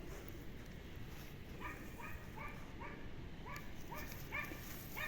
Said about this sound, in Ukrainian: Собаку побачив невідому тваринку і теж розпинається, гавкає.